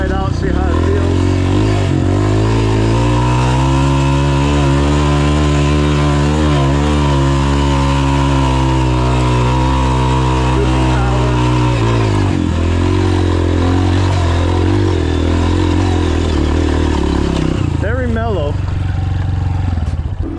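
A Yamaha TTR230 or Honda CRF230 dirt bike engine runs loud and close while riding, revving up and down in rising and falling pitch sweeps, with a brief dip near twelve seconds and a sharp rev near the end.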